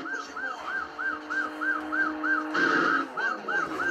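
A synthesized police siren from the arcade driving game Chase H.Q. wails in fast, regular electronic whoops, about three per second, loud and steady over a low engine drone with no talking.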